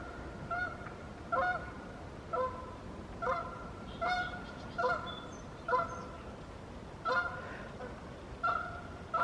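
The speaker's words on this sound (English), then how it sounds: "You can hear the ducks. The geese." Canada geese honking repeatedly, about a dozen loud calls spaced at a steady rhythm over a constant hiss of background noise.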